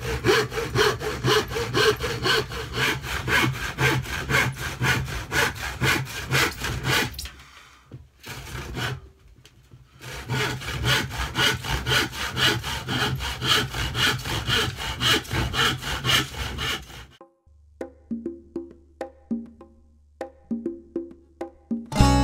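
A hand saw cuts through wood in steady, loud rhythmic strokes, stopping briefly in the middle before sawing resumes, then ending with a few lighter scrapes.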